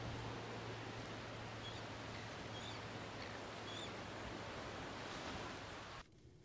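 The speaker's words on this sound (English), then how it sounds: "Waves from the Indian Ocean have sculpted a patchwork of rocky islands." Indian Ocean surf breaks against rocky islands along the Southwest Australian coast, a continuous distant wash of waves at steady volume, with no voices.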